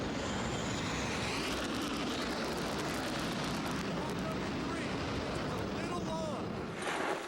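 A jet lands on an aircraft carrier's arresting cables with a loud, steady roar of engine and rushing air that fills the whole stretch.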